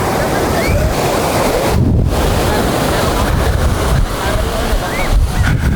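Surf pounding at a beach in Pagudpud, Ilocos Norte, a steady loud wash of breaking waves mixed with gusty wind rumble on the microphone, continuous throughout with no pauses.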